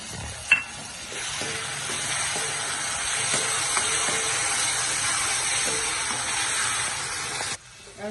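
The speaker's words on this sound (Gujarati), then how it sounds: "એક વાટકી આ ટમેટાની પ્યોરી લીધી છે, 2 મીડિયમ સાઈઝના ટમેટાની પ્યોરી મેં બનાવી છે, એ એડ કરીશું।" Tomato puree made from two medium tomatoes sizzles as it hits hot oil in a pan while cooking a Gujarati soybean curry, a steady close hiss lasting several seconds after a brief clatter at the start, with no talking.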